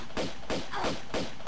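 Gunshots in a Tomb Raider level editor game, four sharp evenly spaced reports in quick succession, fairly close and moderately loud, with no talk over them.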